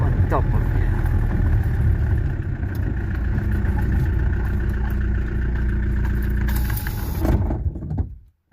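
A Peugeot 404 diesel car with an XD3 engine drives around a farm, its engine producing a steady, close, droning hum that continues without a break before cutting out abruptly near the end.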